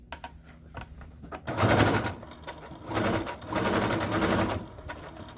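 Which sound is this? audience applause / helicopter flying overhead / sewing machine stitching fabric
sewing machine stitching fabric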